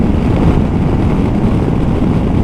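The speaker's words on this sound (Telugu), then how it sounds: "గాలి అయితే మాత్రం బీభత్సంగా వస్తున్నది," Strong desert wind in Northern Australia roars against a motorbike and rider, a dense continuous buffeting rumble that stays loud and steady throughout, with no voices.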